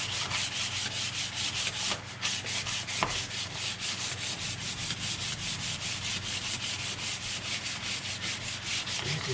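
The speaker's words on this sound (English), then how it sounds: "let's just give this a little light sanding now" Continuous light scratchy sanding on the wooden stock of a Lee Enfield .308 rifle, a soft rhythmic rubbing that stays even and fairly close throughout, with no talking.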